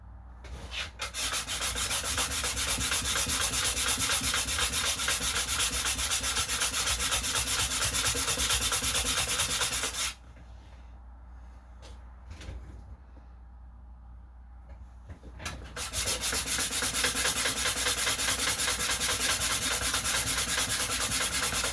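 A coin ring is sanded flat against sandpaper, a loud continuous gritty rubbing that stops for a few seconds midway, where a quieter handling pause falls, then resumes just as strongly.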